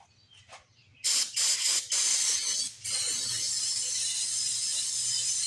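Aerosol cleaner sprayed onto a 1982 Snapper Hi Vac engine that sat abandoned for years, a few short hissing bursts followed by one long steady spray, close and loud.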